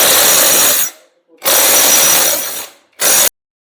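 A power tool whirs in three loud bursts, two long and one short, while tightening the flywheel bolt on a Pulsar 150 BS6 engine, close up with no talk.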